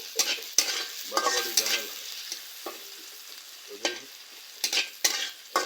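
Chopped onion and garlic frying in a pan, a steady sizzle broken by repeated scraping stirs of a spatula, with a brief spoken remark over it.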